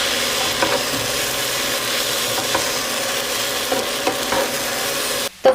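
Chow mein noodles with Maggi masala and soy sauce are tossed and stirred in a pan, a loud continuous sizzle with rhythmic scraping strokes, cut off abruptly near the end by a brief clatter.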